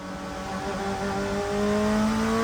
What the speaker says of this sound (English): the transmission shifted from second to third before I ever made contact with the shifter